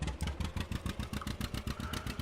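A tractor engine idles at an old-equipment farm museum during haymaking, a steady rhythmic low chugging with regular firing pulses, fairly close and moderate in level, no voices.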